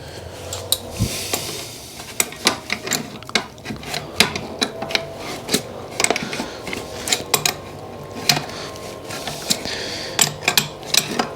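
Compression fitting nuts being tightened onto a water pipe during a burst pipe repair, heard as close, rapid metallic clicks and ratcheting taps in an irregular stream, with no talking.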